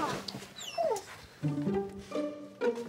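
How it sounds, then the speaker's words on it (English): A dog whimpering and yipping in a house, a series of short high whines and rising cries with a couple of louder yelps, close and clear without talk. "What's wrong, Doggy? Are you feeling very well, Mossy?"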